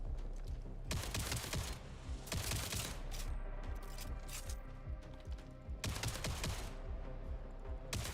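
Gunfire in the side-scrolling video game Jump Ship: dense, rapid bursts of shots that come in repeated volleys of a second or more over a constant low hum, with no talking.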